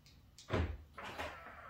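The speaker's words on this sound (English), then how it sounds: "And as soon as you lock the door, the mirrors fold." Side mirrors on a Honda folding in after the door is locked, a short mechanical whir and clunk near the car lasting under a second, followed by a softer motor hum.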